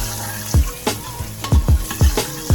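Minced garlic sizzles in hot oil in a pot for Jamaican gungo rice and peas, with loud, close frying crackle and a series of sharp scraping stirs repeating every half second or so.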